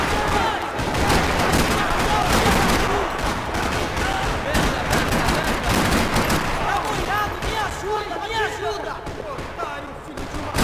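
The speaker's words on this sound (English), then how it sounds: "Another parking lot rattling with gunfire." Rapid bursts of gunfire rattle in a Max Payne 3 parking lot scene, dense and loud at first, then thinning out with voices mixed in.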